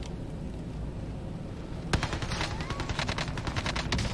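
Rapid PPSh submachine gun bursts in the Warzone video game break out after a low rumbling lull, a dense rattling string of shots continuing to the end.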